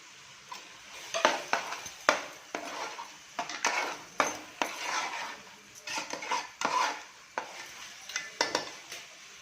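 Masala with coriander powder and a little water for a chicken gravy is stirred in a cooking pan, a spoon scraping and clinking in quick repeated strokes over a soft sizzle of frying spices. Close, no talking.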